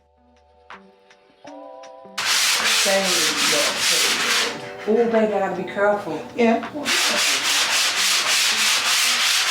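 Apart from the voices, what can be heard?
sanding top coat on a wooden kitchen countertop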